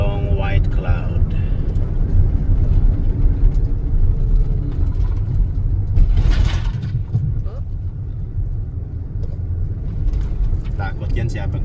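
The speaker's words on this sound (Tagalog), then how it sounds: "Takot yan siya pagka ganyan yung tunog ng sasakyan." Steady low engine rumble from a car towing a trailer on a foggy, cold New Zealand morning, continuous and close throughout, with a brief brighter burst near the middle and voices speaking over it.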